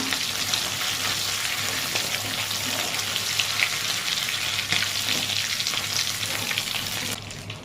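Prawns fry in hot oil in a pan with a loud, continuous close sizzle that thins out just before the end.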